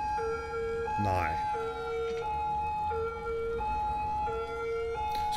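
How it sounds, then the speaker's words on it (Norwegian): Emergency vehicle sirens wail in the city-building video game Cities: Skylines, a two-tone pattern repeating steadily with a brief rising whoop near the start. "Wow, det er sirenene."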